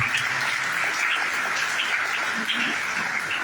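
A large audience at a conference applauds steadily, a dense even wash of clapping that holds at the same level throughout.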